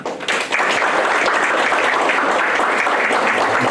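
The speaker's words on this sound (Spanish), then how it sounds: "Vamos a recibir con un fuerte aplauso a nuestro invitado expositor, el doctor Alejandro Navarrete Maldonado." Loud, dense applause from a conference audience welcoming guest speaker Dr. Alejandro Navarrete Maldonado at a labor law lecture, swelling quickly and then holding steady.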